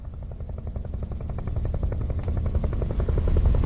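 A helicopter in the video game Metal Gear Solid Delta: Snake Eater, its rotor thumping in a steady, rapid beat, growing gradually louder as it approaches, with a low rumble underneath and no voices.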